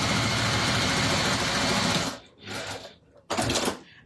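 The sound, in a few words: sewing machine stitching a bag seam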